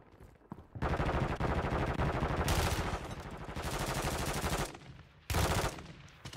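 Rapid automatic gunfire in a video game, fired through a floor, in loud sustained bursts with short pauses between them and a final burst near the end.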